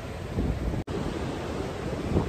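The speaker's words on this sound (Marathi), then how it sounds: "मस्त लाटांचा आवाज येतोय" Sea waves washing onto the shore at Alibaug on the Konkan coast at high tide, a steady broadband roar mixed with wind buffeting the microphone, with one very brief dropout partway through.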